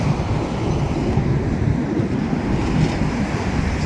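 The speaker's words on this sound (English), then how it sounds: "A long rack train heading to Queensboro momentarily" A long freight train carrying auto racks rolls past nearby in a continuous loud, rumbling roar with wind buffeting the microphone and no pause or voices.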